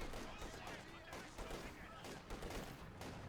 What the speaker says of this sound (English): Auto cannon cracks machine gun blazing away at the elite infantry there.